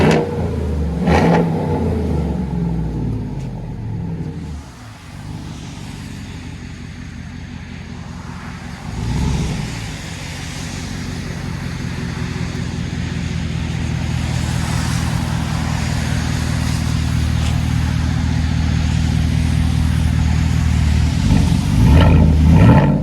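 A 2016 Chevy Silverado Z71 with true dual exhaust, an X-pipe and straight pipes, revs close by. A deep, steady rumble is broken by sharp throttle blips near the start, midway and at the end.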